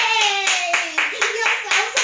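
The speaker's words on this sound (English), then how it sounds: "Give yourselves a clap!" Young children at a toddler activity class clap together in a quick, regular rhythm, about four claps a second, with a voice singing or talking over the claps.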